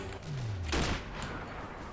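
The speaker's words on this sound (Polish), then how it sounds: "Piękny strzał w głowę, nie w głowę, ale dostał." A single sharp sniper rifle shot in the video game Sniper Ghost Warrior cracks out over a steady low game hum, with a brief echoing tail afterward.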